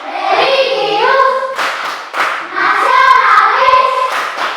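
Students do a rhythmic Tepuk PPK clapping routine, bursts of sharp unison claps between group chanting, close and loud.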